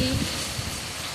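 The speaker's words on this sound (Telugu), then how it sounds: "మా ఊర్లో వర్షం పడుతుంది." Rain falls steadily in a village, a soft continuous hiss of drops spread evenly across the whole short stretch with no pauses.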